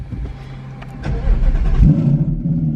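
A modified 2018-2019 Ford Mustang with a Steeda airbox and Cobra Jet manifold cranks briefly, then fires up into a loud, deep rumbling idle close by.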